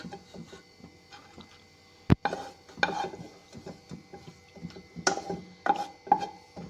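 Grated carrots being stirred in ghee in a pan with a spoon, soft scraping and shuffling with a few sharp knocks against the pan, close and fairly quiet with no talking.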